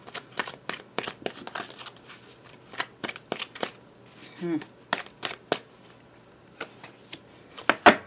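Tarot cards are shuffled in quick bursts of crisp riffling and flicking, close and moderately loud, with short pauses between passes; a voice speaks briefly partway through.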